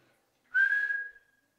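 A single person whistles one short steady tone lasting about half a second, close and clear, with no talk around it, shaping the mouth as a first step before playing.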